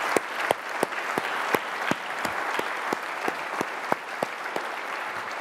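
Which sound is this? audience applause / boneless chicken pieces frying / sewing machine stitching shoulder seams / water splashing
audience applause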